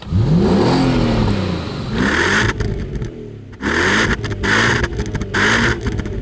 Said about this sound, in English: you could just rev their cars out when they're stationary. And this car sounds particularly good when you rev it.